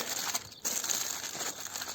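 Continuous crinkling and crumpling of aluminium foil being folded into a packet, close and steady, with a brief pause partway through.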